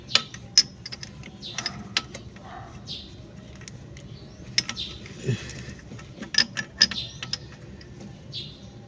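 A shut-off valve on an L300FB van being tightened with a tool, small metallic clicks and ticks scattered irregularly against a faint low background hum.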